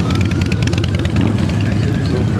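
Many motorcycles idle together at a Toys For Tots charity run in Anderson, South Carolina, a dense, steady low engine rumble that stays loud and continuous throughout.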